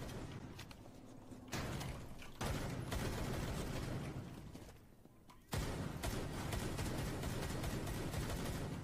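Gunfire from a tactical shooter match in Rainbow Six Siege, with dense bursts of shots running most of the time, a brief lull partway through, and close, loud reports throughout.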